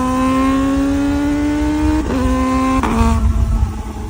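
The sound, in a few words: Ninja ZX-4RR 400 engine revving with auto blip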